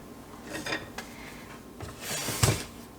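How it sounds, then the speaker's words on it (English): A utensil scrapes and clinks against a bowl as an egg is beaten into batter for a banana chip nut loaf, with soft irregular rubbing strokes and one sharper knock. "we're going to beat in 1 egg"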